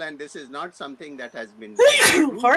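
A loud sneeze bursts out right after a stretch of talk during a conversation about holistic healing and chronic conditions, followed by a brief pause as the speaking resumes.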